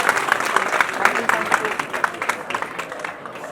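An audience claps at a retirement programme in a busy hall, a dense, sustained round of applause with many hands beating unevenly, tapering slightly toward the end, with crowd voices mixed in.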